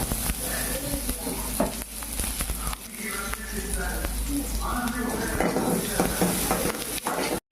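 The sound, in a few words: onions frying in oil for mutton gravy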